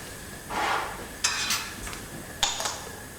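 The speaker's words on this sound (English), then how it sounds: "So I'm going to give it another stir" A glass rod stirs copper oxide powder in acid being heated, making a soft swish followed by a few light clinks against the glass beaker, close and quiet.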